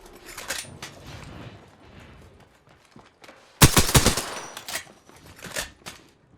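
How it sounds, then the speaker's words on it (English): Enemy gunfire in a shooter video game erupts in a loud dense burst midway, preceded and followed by scattered lighter shots and faint game noise, with no talking. "The enemies are shooting at me."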